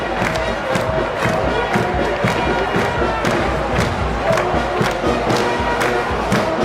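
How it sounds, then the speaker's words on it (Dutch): Crowd at a parade and prize ceremony cheering and applauding as a marching group enters, a loud continuous roar of voices mixed with clapping and occasional thuds, sustained throughout. "onder applaus van het publiek naar binnen"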